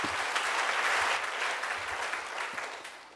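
A church congregation claps together in a sustained, dense round of applause that stays steady for a few seconds, then slowly eases off, with no talking over it.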